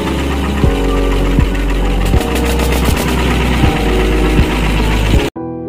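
A Kirloskar twin-cylinder diesel engine runs loud and close, a heavy low rumble with regular knocking thumps under a constant mechanical clatter, then cuts off abruptly near the end.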